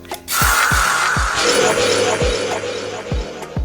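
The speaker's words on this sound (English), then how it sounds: "Yeah, still sounds like glass shattering." A Roblox Dinosaur Simulator call effect with a bright, sustained glassy crash and ringing shimmer, while a series of evenly spaced low thumps repeats beneath it.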